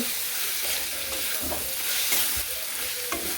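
Vegetables frying in a pan, a loud, close, continuous sizzle and hiss broken by a few scraping stirs, no voices.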